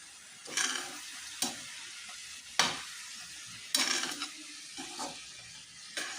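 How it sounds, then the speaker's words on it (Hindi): Potatoes tossed with fenugreek greens in a frying pan, soft sizzling underneath a series of distinct scraping stirs, roughly six strokes spaced about a second apart, close and fairly quiet. "फिर इसको धीरे धीरे आप यूँ ही चलाते जाइए।"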